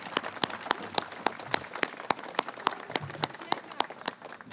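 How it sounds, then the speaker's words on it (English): An audience applauds a choir's rendition of O Canada at an outdoor lookout unveiling, with distinct individual claps popping sharply over a steady bed of clapping throughout, fairly close and even. "if ever O Canada deserved applause,"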